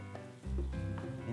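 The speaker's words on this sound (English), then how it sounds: "So we keep on stirring." A dish being stirred in a pan after the white wine has cooked off, a low bubbling sizzle with soft stirring scrapes, close and moderately quiet.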